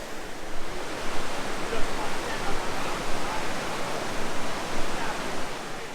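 A waterfall in a slot canyon in Jasper National Park gives a dense, steady hiss of rushing water, close and loud with gentle pulsing swells, filling the sound without other noises.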